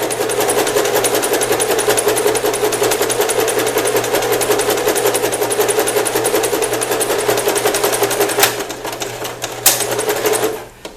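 Sewing machine stitching in reverse to backstitch an invisible zipper, a steady fast needle chatter running continuously and close up before stopping briefly near the end.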